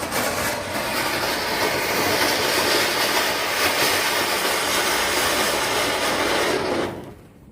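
A Kannan Crackers Asoka flower pot firework burns with a loud, steady roaring hiss and dense crackle for about seven seconds, then cuts off abruptly into quiet.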